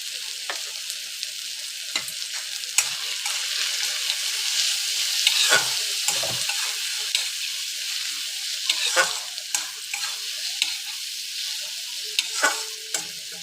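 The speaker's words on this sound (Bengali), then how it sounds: "দেখো মশলাটা আমার ভাজা ভাজা হয়ে গেছে।" Spice masala with salt and turmeric sizzles loudly and continuously in a pan, a bright hissing fry punctuated by scattered clicks and scrapes of stirring over about thirteen seconds, with no voices.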